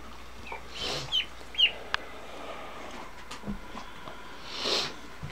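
Several faint, scattered chicken clucks over a steady low background hum, with short gaps between them.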